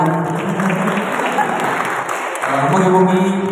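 Audience applause at a Sundanese traditional arts performance of angklung buhun Baduy, a steady wash of clapping throughout with a faint high whine and low hum underneath.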